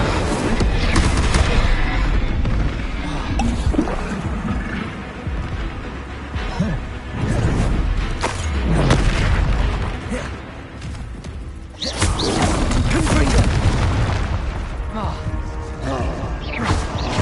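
Spell effects burst in the Hogwarts Legacy PS5 game as Expelliarmus and Incendio are cast, a loud, dense run of booms, blasts and crashes with brief lulls between volleys, with voices shouting over it.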